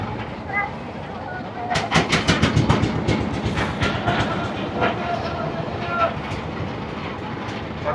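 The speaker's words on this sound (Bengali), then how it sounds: "বোট ছেড়ে দিল।" A tour boat's engine starts up as the boat pulls away in the Sundarbans, giving a rhythmic clattering thump that builds and then settles into a steady churn. Voices talk over it.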